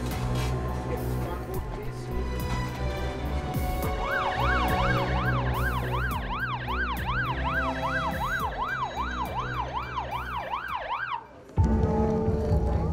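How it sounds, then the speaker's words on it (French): Wailing ambulance siren rising and falling in rapid cycles, sweeping up over steady traffic rumble in a city street, then cutting off abruptly near the end. "Il est évacué par une ambulance."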